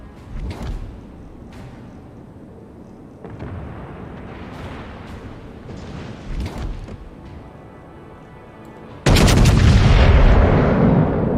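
Warship artillery in the naval battle game World of Warships: heavy booming salvos, one near the start and several more through the middle, ending in a loud sustained roaring barrage, with no talk.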